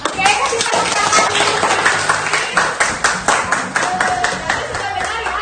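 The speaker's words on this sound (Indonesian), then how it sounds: "kasih tepuk tangan" Students in a university classroom clap for a group presentation, a loud, fairly rhythmic burst of sharp individual hand claps with a few voices mixed in.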